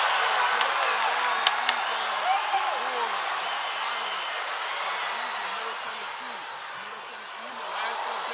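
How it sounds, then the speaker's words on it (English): A packed basketball arena crowd at an NCAA semifinal roars continuously in a dense, steady wash of cheering, with a few faint ball bounces, while a commentator talks over it throughout. "this crowd is electric"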